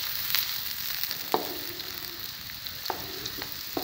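Onions fry in oil in a kadhai for a spiced black-eyed pea dish, a steady close sizzle and hiss broken by a few sharp stirring clinks and scrapes, with no one speaking.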